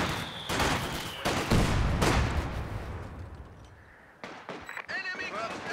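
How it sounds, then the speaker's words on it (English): Heavy machine gun and gunfire bursts crack through a Company of Heroes 2 battle, with dense loud volleys early that thin out, and voiced unit lines and chatter over the combat. "Heavy machine gun team prepared for combat."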